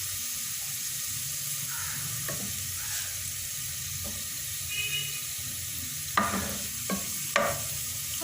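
Onion frying golden in a pan gives a steady soft sizzle, with occasional stirring scrapes and clinks of a utensil against the pan, close and moderately quiet, no voices.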